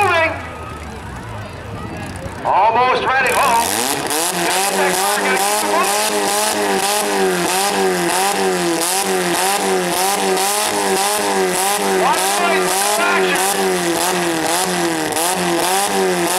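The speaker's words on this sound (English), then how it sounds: "As long as he can keep that car running." The engine of the 05 car, the last one running in a 2016 Brooklin demolition derby heat, drones in a steady rough roar after a brief quieter start, with someone talking over it.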